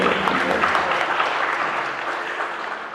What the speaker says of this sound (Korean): 아멘하고 박수할까요?